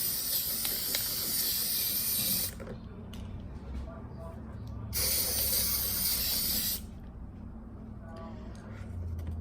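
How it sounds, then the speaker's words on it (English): Two long, loud bursts of aerosol spray paint hiss onto homemade toy binoculars, each about two seconds, separated by quieter handling noises and a faint low background rumble. "Now, we paint spray it with this,"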